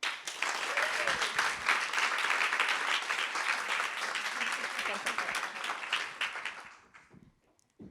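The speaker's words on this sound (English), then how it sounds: "please give a warm round of applause for the next panel." A conference audience applauds steadily for several seconds as a panel is introduced, dense and sustained clapping that fades out toward the end.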